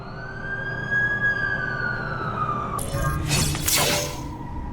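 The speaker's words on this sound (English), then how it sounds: "That's the ambulance I called." An ambulance siren wails in the video game The Amazing Spider-Man 2, a loud, steady rising tone that cuts off abruptly and gives way to a burst of crashing, shattering noise.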